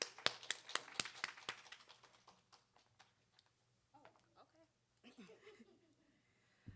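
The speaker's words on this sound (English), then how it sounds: "Give her another round of applause for Ms." An audience at a Texas Southern University communication week event claps in a quick, crowded burst that thins out and fades, then a voice starts talking softly near the end.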